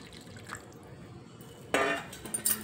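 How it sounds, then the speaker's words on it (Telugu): A little water splashes into a vessel of yogurt being made into masala buttermilk, a brief, bright pour starting after a quiet stretch and then trailing off into a few drips. "కొద్దిగా నీళ్లు వేసి"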